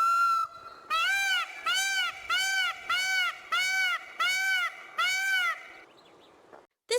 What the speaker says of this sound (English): Can you hear the peacock's call?